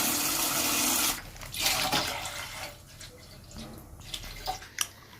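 A pressure cooker cooking rice for payasam lets out a loud burst of venting steam hiss, which fades after a second into quieter sputtering with a few faint clicks.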